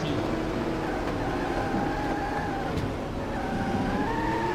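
A racing car engine hums steadily in Test Drive Le Mans on the Dreamcast, its revs rising and falling in a continuous game drone with a brief dip partway through, and no talk over it.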